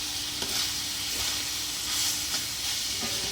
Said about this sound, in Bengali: ভালো করে চিকেন কিমাটা কষে নেব